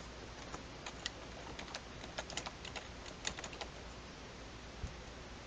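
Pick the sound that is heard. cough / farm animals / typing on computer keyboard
typing on computer keyboard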